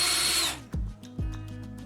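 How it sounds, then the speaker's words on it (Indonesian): A power drill bores a hole through the side of a plumbing pipe near one end, a short loud whining burst followed by a couple of deep thuds as the drilling stops. "Ambil pipa ledeng dan bor lubang di sisi dekat salah satu ujung."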